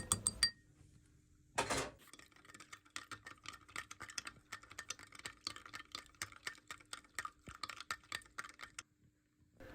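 A spoon stirs yeast and sugar into warm milk in a cup, making a quick run of small close clinks and taps against the cup's side that fade out near the end.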